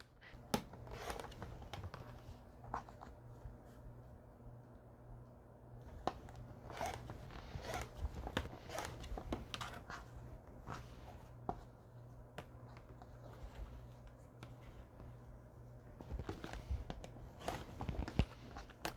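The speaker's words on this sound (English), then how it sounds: "So I need to cut 9 more from this strip." Fabric is cut into 3.5 inch squares from a strip with scissors or a cutter for a table runner, giving scattered short snips and crunches over about nineteen seconds, quiet and close, with no talking.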